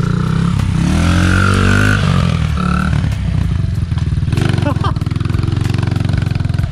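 Honda XR50 dirt bike with an 88cc big bore kit, not yet broken in, revving loud and close in first gear, then a brief dip as it shifts to second and pulls again, with a voice speaking over the engine.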